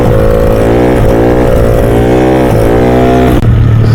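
Yamaha Mio 160cc scooter engine revving hard and steady during a wheelie, a loud close buzzing drone with rising and falling pitch sweeps and a brief dip near the end.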